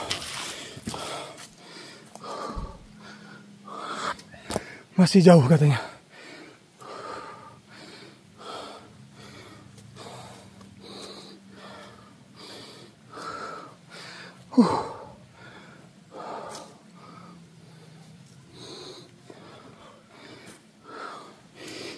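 Heavy, rhythmic breathing of people hiking uphill on a steep forest trail, with repeated panting breaths, occasional sharp gasps and footstep scuffs, and brief talk in between.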